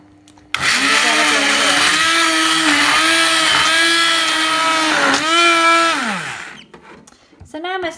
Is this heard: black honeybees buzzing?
no